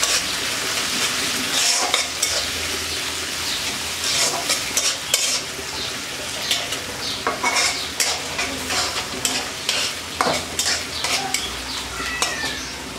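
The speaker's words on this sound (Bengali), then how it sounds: "এবার একটু চিংড়ি মাছগুলো ভাজবো।" Peeled prawns frying and being stirred in a pan, heard as a bright constant sizzle with repeated utensil scrapes and clinks against the pan, close and fairly loud, no voices.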